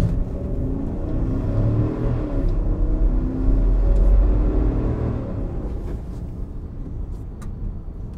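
A car drives a police academy training course with no braking, its engine rumbling loud and close, rising in revs and then easing off into a lower drone and faint whir.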